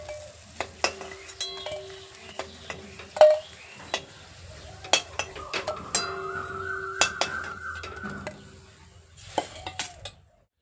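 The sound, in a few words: frying jackfruit kofta balls in a pan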